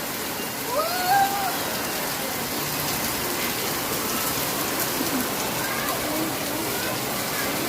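First monsoon rain of the season in Mumbai pours as a dense, even hiss of drops hitting surfaces, steady and fairly loud, with a brief whistle-like tone early on and faint voices in the background.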